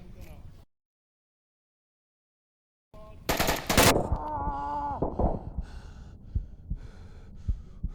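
In the VR shooter Insurgency Sandstorm, a loud burst of automatic gunfire rings out after a stretch of silence, followed by scattered shots and echoing reports under a voice.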